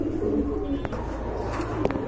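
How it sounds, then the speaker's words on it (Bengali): Pigeons offered for sale coo in low, throaty murmurs close by, with a few brief sharper sounds mixed in, and no talking. "আরেক জোড়া কবুতর ভাই"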